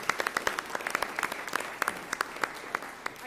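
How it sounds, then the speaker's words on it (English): Applause at a school board meeting for a floor hockey team, a modest room of people clapping with crisp, individually audible claps, moderately quiet and steady. "let's give a round of applause for them."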